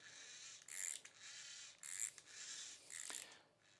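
Manual override on an electric valve actuator turned by hand, three bursts of quiet mechanical ratcheting and whirring with short pauses between, close and faint, no speech.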